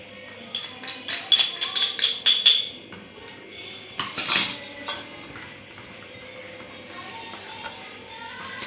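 A spoon clinks against a metal vessel as turmeric is mixed in for tomato rasam, a burst of rapid taps and scrapes followed by a few scattered knocks under a faint background hum.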